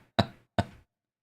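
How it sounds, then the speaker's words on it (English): A cat paws at a door, making two sharp, close knocks about half a second apart, followed by silence. "it does sound like pawing at the door"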